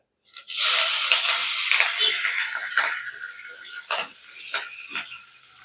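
Small onions and green chilies hit hot oil in a pan and burst into a loud hiss, the sizzle gradually settling, with a few spoon clinks near the end.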